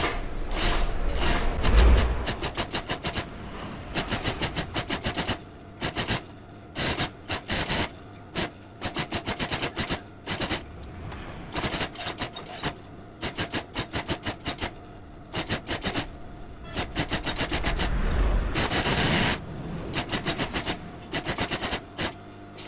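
A sewing machine runs in repeated stop-start bursts, hemming a pair of overalls, with a close, rapid mechanical whir and clatter between brief pauses.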